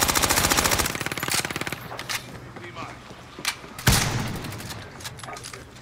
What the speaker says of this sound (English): They're shooting me from the southwest